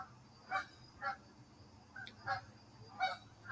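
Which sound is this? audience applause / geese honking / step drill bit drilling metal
geese honking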